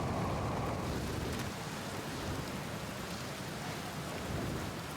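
Thunderstorm in the video game Outer Wilds: steady heavy rain hiss with a low rolling thunder rumble, loud and continuous throughout.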